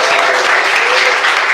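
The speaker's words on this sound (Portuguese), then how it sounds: "Palmas e glória a Jesus" A worship congregation bursts into loud, dense clapping in praise, a continuous close roar of hands with faint voices blended in.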